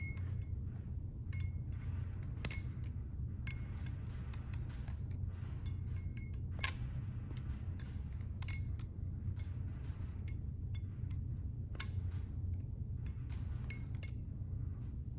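A ball-and-chain balisong knife in Bowie style rattles and clicks as it is flipped, with scattered sharp metallic ticks over a low steady rumble, close but fairly quiet.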